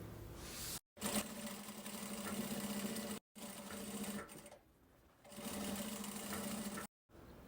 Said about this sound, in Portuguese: passo uma costurinha.